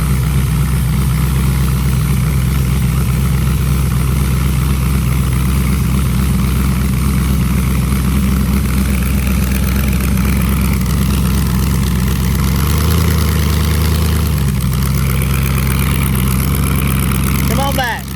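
A work truck engine idles with a dumped header exhaust, a loud continuous low rumble throughout, with people talking over it.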